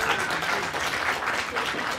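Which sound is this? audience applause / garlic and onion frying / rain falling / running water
audience applause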